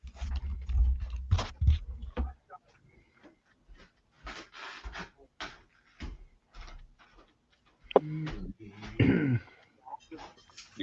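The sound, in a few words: throat clearing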